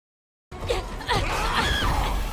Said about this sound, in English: That's the scream.